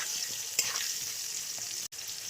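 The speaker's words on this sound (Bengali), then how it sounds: "পেঁয়াজটাও আলুর সঙ্গে ভাজা হয়ে যাবে।" Onions frying together with potatoes in a pan, an even continuous sizzle with a brief stirring tap and a momentary break, heard alone without talk.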